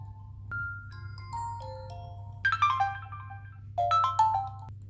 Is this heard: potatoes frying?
no